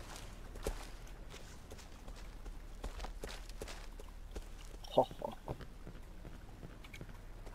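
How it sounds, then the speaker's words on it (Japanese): Footsteps of the player character in the PC horror game Cry of Fear, a series of soft, fairly regular steps over a low ambient hum, with one louder thud midway and a person talking over them. "俺の足音か"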